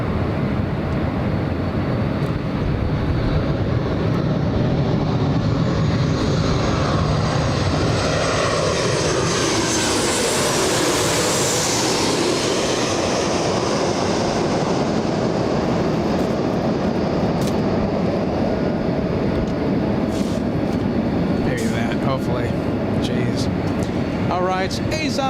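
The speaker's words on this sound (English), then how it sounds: "We have Alaska 1282 flying in from Portland." An Alaska Airlines Boeing 737-800 in from Portland lands at Los Angeles International, a long, loud jet roar that swells as it passes and then fades into a steady rumble, with someone talking through it.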